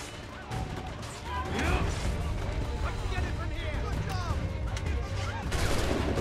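Rapid gunfire and crashing impacts fill a busy firefight in the video game Assassin's Creed 3, continuous and loud, with a player talking over the shooting.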